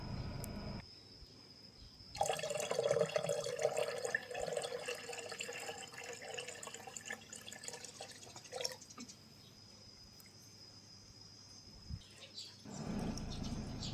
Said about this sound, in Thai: เทน้ำ AR ลงในชิ้นงาน ทองจะเริ่มละลายกลายเป็นน้ำ